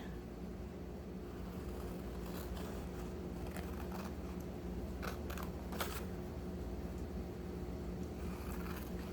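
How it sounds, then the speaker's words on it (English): Scissors snip through a sheet of paper while a zipper pocket page for a junk journal is being made, giving a few short, crisp cuts close by over a steady low room hum. "take my scissors and cut it"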